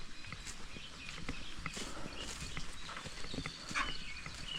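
Horses walk into a stable after grazing, their hooves clip-clopping irregularly on the ground at close to mid distance, with rustling, shuffling and occasional faint snorts throughout.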